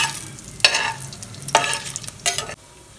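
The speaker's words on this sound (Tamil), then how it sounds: "பட்டை கிராம்பு ஏலக்காயெல்லாம் போடுறேன் நல்லா பொரியட்டும்" Cinnamon, cloves, cardamom and fennel seeds fry in hot oil for mutton kulambu, a soft sizzle broken by three bursts of louder crackling or stirring before the sound drops off abruptly.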